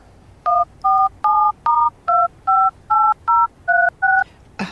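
Touch-tone telephone dialed in a radio drama, eleven crisp DTMF beeps in a quick, slightly uneven sequence, clear and close with no talking.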